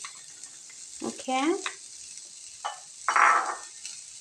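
Onions frying in cooking oil, a soft steady sizzle with bursts of stirring and crackle, while someone speaks briefly nearby.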